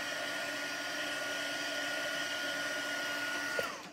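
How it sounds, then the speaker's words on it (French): A heat gun blows to dry an embossed card, giving a steady, close whooshing hum that runs unchanged throughout before a small click near the end. "Je devrais peut-être passer un petit peu de pistolet chauffant."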